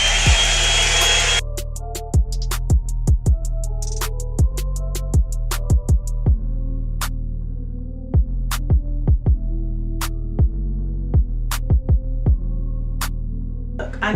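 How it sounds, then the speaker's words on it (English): A Drybar hair dryer blows air for drying hair, a brief rush of airflow and then a steady droning motor hum, with sharp clicks and taps scattered over it, loud and close. "I'm gonna be using my auntie's dryer"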